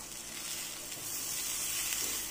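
Tempeh and tofu bacem fry in a pan over medium heat with a steady, close, bright sizzle and hiss that runs unbroken, without any talking.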